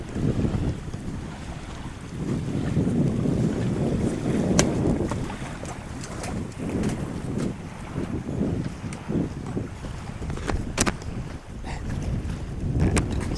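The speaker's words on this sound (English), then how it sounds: "Hoping the wind dies down." Strong wind gusts buffet the microphone at a lakeside campsite in North Dakota, a continuous loud rumbling roar with rising and falling surges and faint ticking noises over it.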